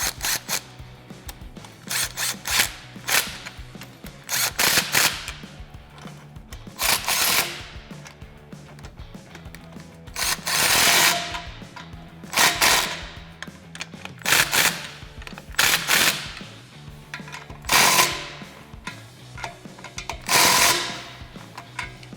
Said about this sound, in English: I'm going to take my 15mm, tighten our band clamps back up.